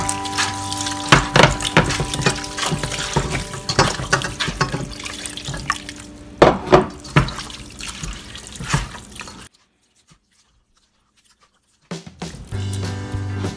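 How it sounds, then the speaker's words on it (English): Tap water splashes into a cooking pot for minced meat soup, a steady close pour with irregular splashy bursts that stops abruptly before resuming briefly near the end. "So I start by adding water to my"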